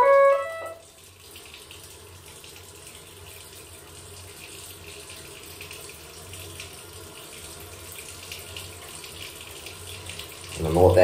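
Water runs steadily from a tap while hands are washed with soap, a continuous close splashing hiss that holds for about ten seconds, with a brief clatter at the start and a louder burst near the end.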